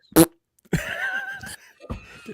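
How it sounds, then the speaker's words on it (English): Fart putty squished by hand to make fart noises, a sharp short burst followed by a longer buzzing squelch and a final brief splutter, close and loud in a quiet room. "My only prop is fart putty."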